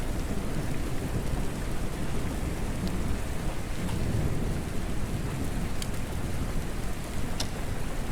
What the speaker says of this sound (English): The raindrops against the glass create a soothing, almost hypnotizing rhythm